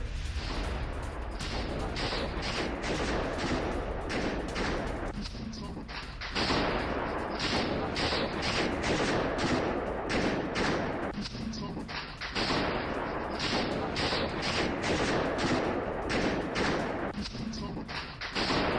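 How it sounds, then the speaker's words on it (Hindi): Rapid bursts of gunfire crackle repeatedly over a loud, continuous noisy background, with brief lulls between volleys, recorded during an attack inside Crocus concert hall. "क्रॉकस हॉल में अंधाधुंध फायरिंग करते दिखे आतंकी"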